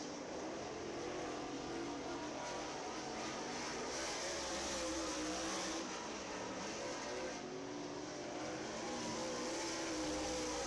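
Race cars rolling off turn 4 onto the green flag lap at County Line Raceway: a steady, distant, blended engine drone that holds without a break, fairly faint and unaccompanied by voices.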